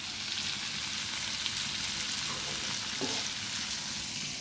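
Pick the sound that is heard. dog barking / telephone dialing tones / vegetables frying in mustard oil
vegetables frying in mustard oil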